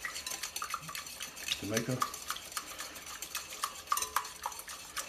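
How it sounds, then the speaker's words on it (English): Eggs whisked in a mixing bowl for a seafood egg wash, a steady run of quick metallic clinks and scrapes against the bowl, close and moderately loud, with brief speech near the end. "we want to take a whisk and we're going to whisk them together"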